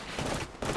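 Incoming gunfire in the Apex Legends battle royale shooter, a dense burst of rapid shots lasting under a second, loud and close, with a brief dip before the firing resumes.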